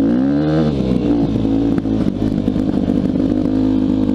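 Yamaha YZ dirt bike running rough while ridden, a loud, close droning engine note that rises briefly at the start and then holds steady with rattling clatter.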